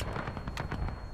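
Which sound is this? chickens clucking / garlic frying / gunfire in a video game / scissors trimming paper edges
gunfire in a video game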